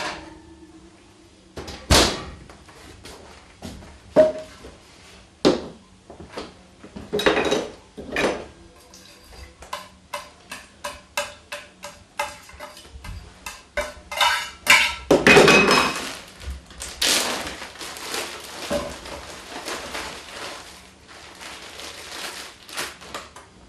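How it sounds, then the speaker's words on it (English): Potatoes are tossed in a pan with butter, giving a series of sharp metallic clanks and scraping knocks from the pan, irregular and close, with pauses between clusters. "Now we're going to toss the potatoes in the pan."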